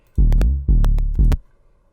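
An 808 bass pattern with a slide note: three loud, deep booming hits in succession, each sustaining then cut off, with clicky attacks, the last one short, followed by near silence.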